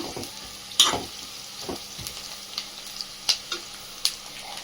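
Thinly sliced onions fry in hot oil with a soft, steady sizzle, punctuated by several sharp spatula clicks and scrapes against the pan at irregular intervals, close by and without speech.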